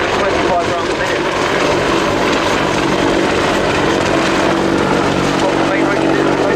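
An Apache attack helicopter flies at the Royal International Air Tattoo air show, with a loud steady rotor and engine roar filling the whole stretch without letup.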